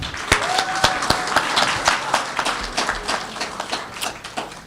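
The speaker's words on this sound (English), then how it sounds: "Can we give her a round of applause?" Audience applause at a Grenada diaspora town hall in Montreal, with a steady crowd clapping and a few sharper claps near the start, a brief voice heard faintly early on.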